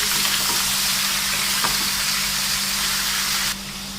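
Chicken for a white creamy karahi sizzles steadily in oil in a karahi, a continuous close frying hiss with a faint low hum beneath, dropping slightly quieter near the end.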